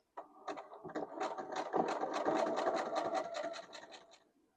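Sewing machine stitching a zigzag along a fabric edge while a quilted letter piece is pivoted at its corner, a steady rapid mechanical whirr running for about four seconds, close and fairly loud with no talk.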